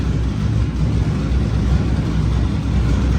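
A car engine runs steadily on a dyno, a continuous low droning rumble with slight roughness and no voices.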